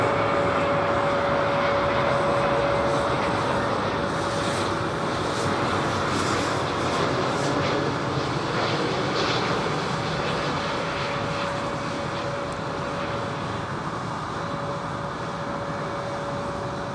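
A freighter aircraft at London Heathrow Airport produces a steady, distant jet roar with a sustained engine whine, holding constant for the whole stretch with no talking.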